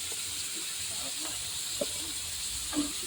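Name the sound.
prawns frying in oil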